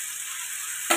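Cauliflower, carrot and peas fry in a pan with a steady, even sizzle that runs throughout and swells louder in the final moment.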